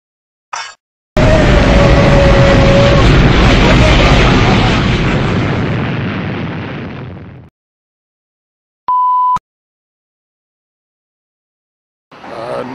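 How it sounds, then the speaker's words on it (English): A single loud, deep bomb-like explosion booms and rolls on for about six seconds before fading, followed by a short electronic tone and a brief burst of noise at the end. "Bombs?"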